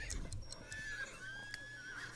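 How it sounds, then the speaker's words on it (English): Horses in The Sims 3 whinny in a panicked way, with a thin, wavering call that rises and falls across the whole stretch over a soft background. A few faint hoof clops sit underneath. "the horses sound like they are having a hardcore panic attack"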